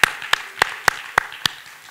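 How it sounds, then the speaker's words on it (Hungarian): Applause for a guest at a folk dance camp's closing evening in a theatre, heard as six sharp, evenly spaced claps standing out clearly against a quiet room. "tapsoljuk meg az urat, tisztelt jelenlévő"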